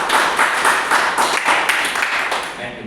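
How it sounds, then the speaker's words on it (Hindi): An audience claps loudly together, with a steady dense patter of many hands that stays strong for the whole stretch before easing slightly at the end. "चलिए सबके लिए एक बार जोरदार ताली।"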